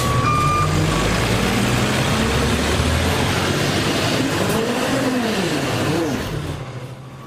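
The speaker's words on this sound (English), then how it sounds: "The city garbage trucks struggled to get up a back alley near 105th Street and 98th Avenue. They had to back up and take a run at the hill" A city garbage truck backs up a snowy alley near 105th Street and 98th Avenue in Edmonton with a loud, rumbling engine. Its reversing beeps sound close, and the engine fades slightly at the end.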